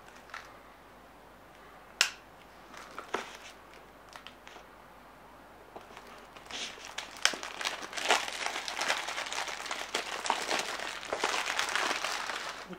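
Packaging of a Blu-ray box set of The World at War documentary series being opened: a few sharp clicks and snaps, then rising crinkling and rustling of wrapping, close and fairly quiet, with no talking.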